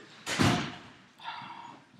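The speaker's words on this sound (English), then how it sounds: "Yusuf, don't slam the door when you walk in." A classroom door bangs shut with a single loud thud, followed by a softer rattle and brief reverberation a moment later.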